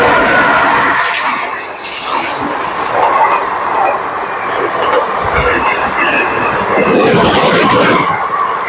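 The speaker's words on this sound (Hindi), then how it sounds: "देखिए ये आ गई दानापुर से चलकर साहेबगंज जाने वाली इंटरसिटी।" The Danapur–Sahebganj Intercity train rolls past at close range, a loud sustained rumble of wheels and carriages with rhythmic clatter and squealing metal rising and falling as it goes by.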